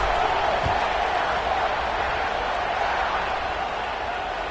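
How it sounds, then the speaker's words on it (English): Football stadium crowd buzzing after a score, a steady broad roar that holds at an even level throughout. "this crowd is buzzing after that last score"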